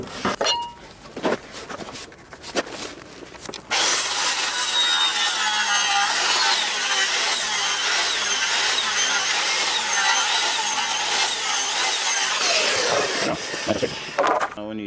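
A handsaw rips a wooden board lengthwise for ground pegs in foundation footing work, with a few tentative strokes first, then about ten seconds of loud, continuous, close rasping cuts that taper off near the end.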